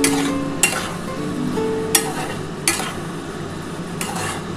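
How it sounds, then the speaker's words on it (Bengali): Dry chili paneer stirred with sauces in a pan, a close, steady sizzle broken by four or five sharp spatula knocks against the pan at uneven intervals. "এবার আমি ভালো করে একটুখানি নাড়াচাড়া করে নিই"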